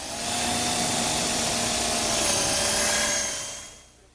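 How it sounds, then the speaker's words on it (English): A power drill bores a screw hole into a wooden support piece for a drop-leaf table, a steady high whine held for about three seconds before spinning down, close and loud. "The first thing I want to do is drill a hole"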